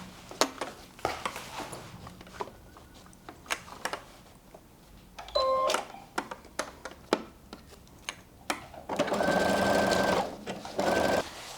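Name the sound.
sewing machine stitching across a tote bag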